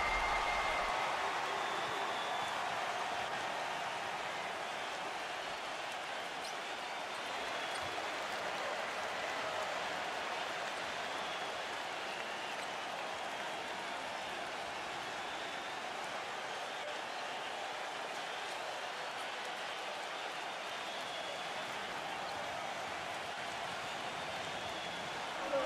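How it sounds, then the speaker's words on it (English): A video game crowd roars during a FIBA World Cup basketball match between Gilas Pilipinas and Spain, a dense, sustained wash of cheering that stays loud and even throughout, heard alone without clear talk. "And now the crowd really getting into it."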